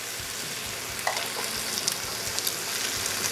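Eggs frying gently with ham in a pan, a soft continuous sizzle with small crackles and pops scattered throughout, close and fairly quiet, with no voices.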